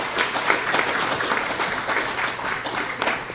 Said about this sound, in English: can we just give them a round of applause for our panel?